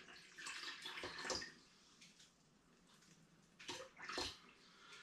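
Water is poured from a tap into a measuring jug while topping up a sparkling Sauvignon Blanc wine kit, heard as two short splashy gushes about three seconds apart, fairly close with quiet pauses.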